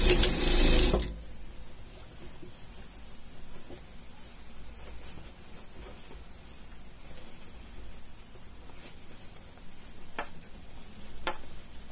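A sewing machine stitches a women's vest in short bursts of rapid mechanical ticking, close and clear, with pauses and handling noise between runs.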